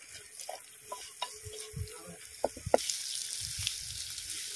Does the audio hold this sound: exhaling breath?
no